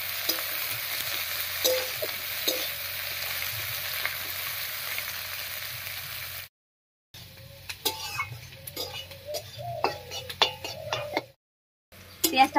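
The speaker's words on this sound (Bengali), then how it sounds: "পেঁয়াজটা ভাজা ভাজা হয়ে গেছে" Chopped onions with a dried red chili frying in hot oil in a pan, a steady sizzle broken by stirring scrapes and clinks, with two short silent gaps.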